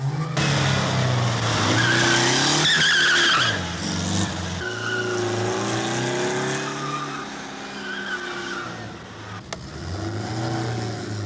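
A race car skids through a hairpin turn, tyres squealing in long, shifting wails over a revving engine that rises and falls, fairly close and continuous.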